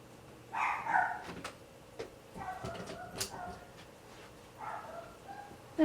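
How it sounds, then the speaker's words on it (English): A dog barks several times outdoors, somewhat distant, in short bursts with gaps between them over faint background noise. "That's my mom's dog barking."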